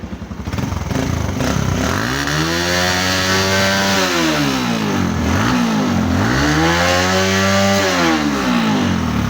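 A restored Suzuki GD110 motorcycle engine idles loudly up close, then revs up and drops back twice in smooth rising and falling sweeps, running evenly without misfiring.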